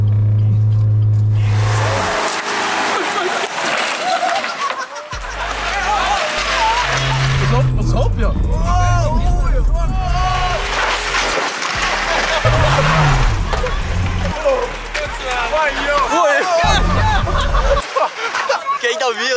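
A car driven by an inexperienced learner, engine revving in loud bursts with tire noise and squeals, interrupted by abrupt stops, while people talk and shout over it.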